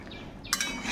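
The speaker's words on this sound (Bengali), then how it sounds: "এর মধ্যেই অল্প করে হাফ বাটির মতন জল দিয়ে দিচ্ছি" Water splashes from a half bowl into jackfruit-seed curry in a pan, a short bright pour starting midway and running to the end, close and fairly quiet.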